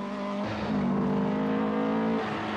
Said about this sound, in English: Datsun driver Jean-Louis Dumont lifts a wheel with his Dawson-prepared car.